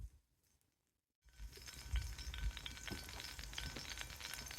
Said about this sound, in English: So our oil's sizzling away.